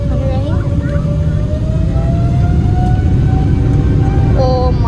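Cabin roar of a PIA airliner accelerating down the runway for takeoff, a loud steady rushing rumble with a rising engine whine, voices talking over it.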